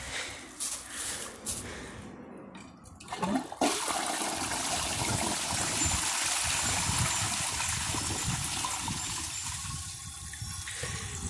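A Crane Galaxy Elite II toilet flushes a grocery bag: after a few seconds of quieter clattering, the flush bursts in loudly and rushes steadily close by, then gradually eases into a gurgling refill, with no talk.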